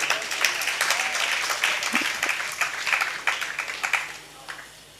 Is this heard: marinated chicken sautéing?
no